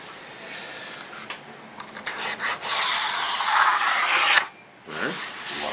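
A pencil or marker scratches a line across a floating parquet floor plank, with short rasping strokes building into a longer continuous rub, then a brief pause and a final stroke, close and clear.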